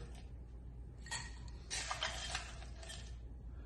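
Chopped ice shoveled into a glass for a margarita, heard as a few faint, crunchy clinking bursts in a quiet room.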